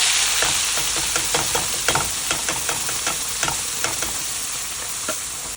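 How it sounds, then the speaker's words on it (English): Onion paste frying in a pot with bay leaves and cardamom for a fish curry, a close, continuous sizzle broken by regular scraping stirs of a spoon, with no voices. "I'm going to fry this until it releases all the onions"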